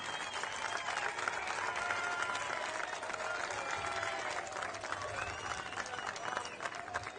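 Sustained applause from a commencement audience at Quincy University, many hands clapping steadily and fairly loud throughout, with faint crowd murmur mixed in.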